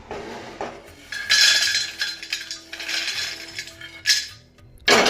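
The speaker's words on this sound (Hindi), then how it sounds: "तो यहाँ मैं भून रही हूँ प्लेन मूँगफली" Plain peanuts roasting in a pan at home: irregular metallic scraping and clinking bursts of a utensil stirring against the pan, close up, with quiet gaps in between and no talk.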